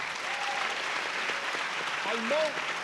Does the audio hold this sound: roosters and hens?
no